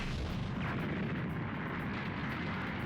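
A Light Grenade energy attack explodes in Dragon Ball Z Kakarot, a loud, dense roar of blast noise that stays heavy and unbroken throughout with no pause or decay.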